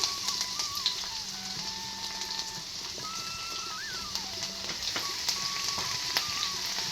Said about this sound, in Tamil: இந்த பூண்டு வந்து ஒரு ஃபிஃப்டி பர்சன்ட் மட்டும் நல்லா பொரியட்டும் பாருங்கள்